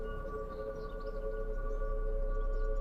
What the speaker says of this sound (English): We have these sirens in Germany too that just go off randomly sometimes.